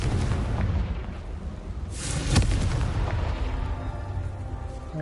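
The Confringo blast spell goes off in Hogwarts Legacy as a loud, booming explosion with a sharp burst and a rumbling tail. It sits over a constant layer of game ambience.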